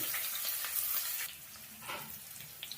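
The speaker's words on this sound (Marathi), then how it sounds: "त्याच्यानंतर कांदा टाकून घ्यायचा थोडं कांद्याला पण लाल पडू द्यायचं" Chopped garlic and onion fry in a pan with a steady, close sizzle that softens slightly midway, with a few light stirring scrapes toward the end and no talking.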